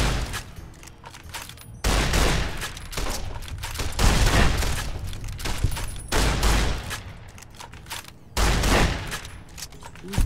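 Gunfire in the Fallout New Vegas video game: bursts of loud, sharp shots in several volleys with brief quieter gaps between, close and aggressive, with no talk over them.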